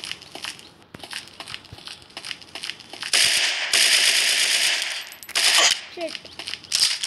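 Submachine-gun fire in an online first-person shooter, bursts of rapid shots with a long sustained spray in the middle and shorter bursts after, fairly loud over game effects and faint talk.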